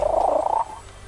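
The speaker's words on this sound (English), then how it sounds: "She's making some weird noise" A female cat makes an odd, low purring or trilling vocalization lasting about half a second, fairly close and clear, then stops, leaving quiet room noise.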